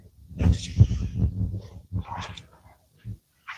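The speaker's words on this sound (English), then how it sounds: "the dog wants his bed" A dog nearby making a run of short whimpers, yips and muffled soft barks in uneven bursts indoors, moderately loud and close, with no speech over it.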